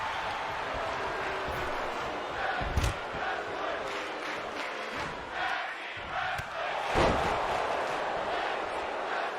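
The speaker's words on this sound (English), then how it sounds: "The crowd is chanting for tag team wrestling." A large arena crowd in the AEW wrestling video game roars and chants continuously during a tag team match, a dense wash of voices with occasional louder swells and thuds.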